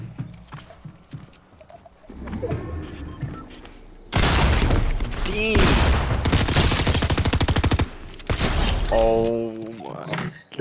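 Shotgun blasts and gunfire in the video game Fortnite, loud bursts filling the middle of the stretch with busy game noise, while players talk and shout over it.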